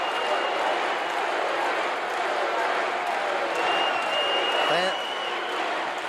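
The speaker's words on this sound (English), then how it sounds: "Fans are roaring for Duggan" Wrestling fans roar and cheer for Hacksaw Jim Duggan at a 1983 arena show in Texas, a dense, steady crowd wash with a swelling shout near the end and no clear talk over it.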